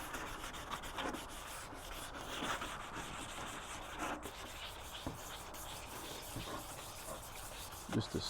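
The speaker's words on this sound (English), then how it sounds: "A little wet sand." Hand wet sanding a freshly spray-painted part: a steady, soft rubbing and scrubbing with repeated strokes, fairly faint and continuous, with some water-like swishing.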